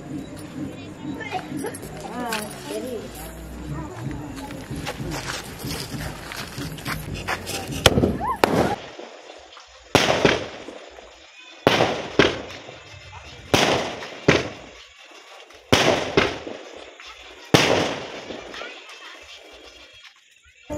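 Talking and background noise during a Bathukamma festival, then sharp, loud firecracker bangs go off one at a time, about six blasts spaced a couple of seconds apart.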